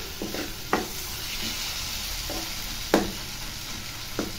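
Spices frying in a pan for a Bengali-style coconut dal, a steady sizzle broken by a few sharp stirring scrapes at irregular intervals, close and fairly quiet.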